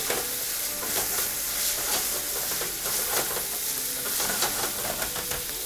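Soffritto sautés in olive oil over high heat, a loud continuous sizzle and hiss with constant stirring and scraping of the pan, close and unbroken.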